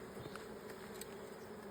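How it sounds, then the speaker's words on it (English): A cluster of honeybees in a hive that is doing well for food but has no queen nearby gives off a faint, steady, even drone with no break and no voices. "we do not hear them buzzing anymore."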